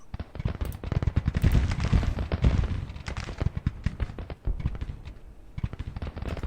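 Rapid, uneven volleys of musket and rifle fire crackle on a Civil War battlefield in Grand Tactician: The Civil War, a dense run of sharp overlapping shots at moderate distance with no pauses.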